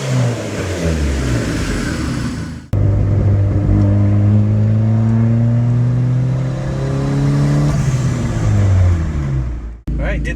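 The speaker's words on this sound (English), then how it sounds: "get on it just a little bit to make the blow-off valve make noise" A car fitted with an HKS blow-off valve and its factory insert accelerates, engine revving and rising through gears with sharp cuts where the valve vents, loud and close, with talk over parts of it.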